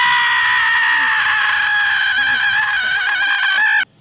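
A person lets out one long, loud, sustained scream at close range, holding a steady pitch for nearly four seconds before cutting off abruptly.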